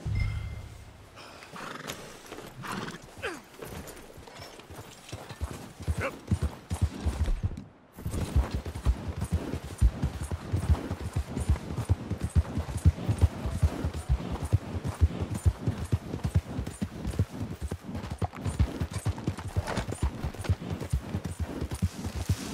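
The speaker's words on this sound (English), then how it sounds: "Get out of here, horse." Horse hooves clip-clop in Red Dead Redemption 2, quiet at first, then after a short pause a louder, steady run of rapid hoofbeats close by.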